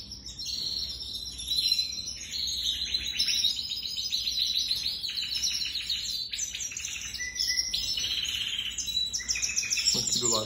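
Canaries chirp and twitter continuously around a nest with chicks being fed, a dense stream of thin, high, fairly faint calls with no talk.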